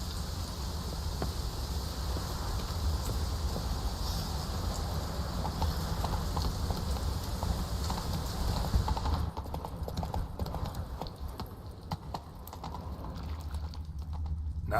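Hooves of Roach, a horse in The Witcher 3: Wild Hunt, clip-clopping steadily and close throughout over an ambient game background, thinning out toward the end.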